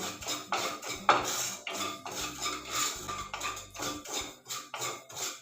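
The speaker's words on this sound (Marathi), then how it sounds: "कढईमध्ये दोन चमचा खसखस घालून घेऊ गॅसच्या स्लो फ्लेमवर खसखस आपल्याला भाजून घ्यायचे" Poppy seeds dry-roasting in a kadai on a low flame, heard as a steady series of quiet rhythmic scrapes and light metallic clinks as a spoon stirs the pan, close and without voices.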